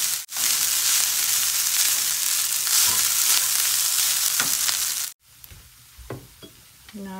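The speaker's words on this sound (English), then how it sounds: "Now mix the rice." Rice is mixed in a frying pan over a loud, dense sizzle with faint scraping, which cuts off abruptly to near quiet, leaving a few sparse clinks and soft scrapes.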